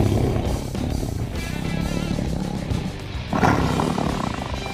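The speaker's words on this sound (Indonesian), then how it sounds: "Wah, ini harimau Sumatera." A Sumatran tiger roars and growls in a loud, sustained rumble, close and dense, with a stronger burst near the end and no talk over it.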